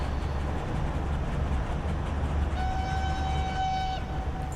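In the Transport Fever 2 railway game, a train rumbles in with a steady low roar, and a sustained horn sounds midway and holds for over a second before cutting off.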